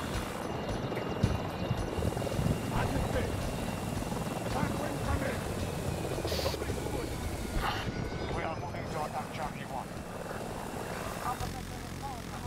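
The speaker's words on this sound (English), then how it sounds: "you really love the stealth helicopter" Stealth helicopter in the video game Battlefield 2042, a steady loud rotor and engine drone running throughout with gunfire-like bursts and game effects layered on top, while players talk over it.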